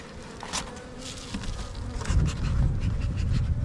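Honeybees swarm around an opened hive during a colony inspection, a dense close buzz that swells and grows louder toward the end, with no voices.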